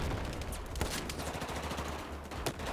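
Rapid gunfire and explosive bursts from the video game Battlefield 4, a dense fusillade of shots with sharp cracks, fairly quiet in the mix with no talking.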